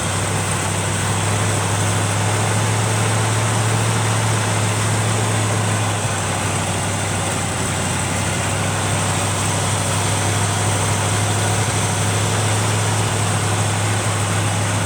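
A 1971 Chevrolet pickup's 454 engine with a vacuum leak at the carburetor base idles close by with a steady low rumble and a slightly uneven, rough drone throughout, no voices.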